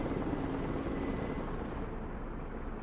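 Steady low rotor drone of a Mi-26 heavy transport helicopter in the war game Broken Arrow, a continuous, fairly loud engine and blade rumble holding level throughout with no voices over it.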